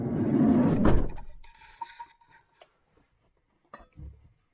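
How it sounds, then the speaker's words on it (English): A door is shut indoors with one solid thud near the start, after some rustling, followed by quiet with faint scattered ticks and small knocks. "So let me just shut that door."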